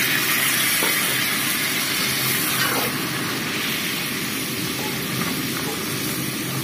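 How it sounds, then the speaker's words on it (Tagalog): Rice cooking wine sizzles in a pan of anchovy and peanut adobo, a steady broad hiss that stays loud and close from start to finish, with no talking over it. "At lagyan natin guys ng kaunting cooking wine."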